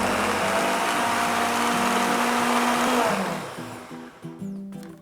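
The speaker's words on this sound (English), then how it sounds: "then we'll place them into our blender and puree them" A blender purees peaches, whirring loudly and steadily for about three seconds, then winds down and sputters to a stop.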